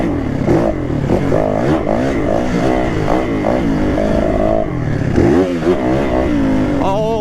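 Loud, continuous engine roar from a Yamaha WR450 enduro motorcycle being ridden, rising and falling with throttle and gear changes, close and dominant throughout.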